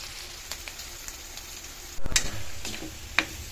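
Garlic and onion frying in rendered pork belly fat for pansit bato, a steady light sizzle with a louder burst of crackling partway through and occasional ticks of utensil stirring, no talk.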